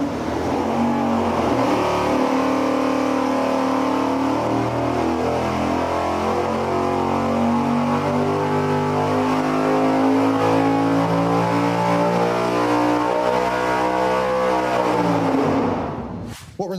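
A car engine revving on a dyno during spark plug testing, a loud continuous high-rpm wail with the pitch sweeping steadily upward before cutting off abruptly near the end.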